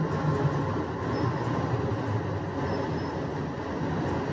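SFO AirTram airport people mover train pulling into the station, a steady low rumble and rolling hum of the car approaching, moderately quiet and continuous with no talk over it.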